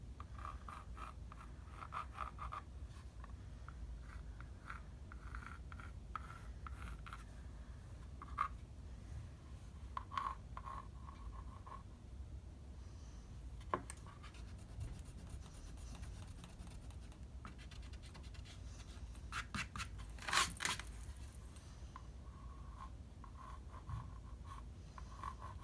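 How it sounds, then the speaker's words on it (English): Pencil strokes on paper while sketching a face using the grid method, a faint continuous scratching with short bursts of quicker strokes and a louder scrape near the end, with no talking. "draw the rest of the face"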